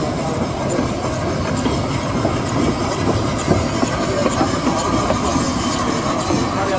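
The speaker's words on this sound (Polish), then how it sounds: "Ze szlaku wraca pociąg z parowozem Henschel Riza" A train hauled by a Henschel steam locomotive named Riza rolls by on a narrow line, a loud, steady rumble of wheels with rhythmic clickety-clack and faint hiss throughout.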